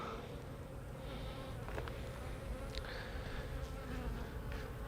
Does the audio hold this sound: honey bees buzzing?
yes